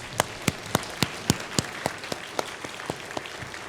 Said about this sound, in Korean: 우리 하나님께 영광의 박수 한번 드리실까요?